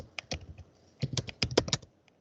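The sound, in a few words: typing on a computer keyboard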